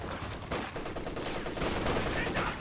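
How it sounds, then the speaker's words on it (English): An MG34 machine gun in the wartime strategy game Company of Heroes 2 fires steady suppressing bursts, layered with dense battle noise at a moderate distance, under a brief stretch of game audio. "MG34 doing its thing, suppressing, keeping infantry back"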